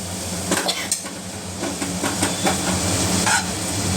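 Garam masala, coriander powder and turmeric are stirred in a pan: a spoon scrapes and taps the metal in quick irregular strokes over a constant loud sizzling hiss, with no speech.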